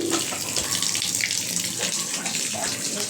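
Tap water gushing steadily into a basin to soak laundry, a loud continuous splashing rush that holds for the whole stretch with no talking.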